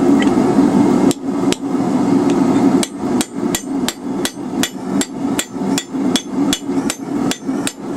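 Hammer striking hot steel on an anvil while nicking both sides of a forged bottle opener, a rapid, evenly spaced run of sharp ringing blows, close and loud over a steady roar from the forge.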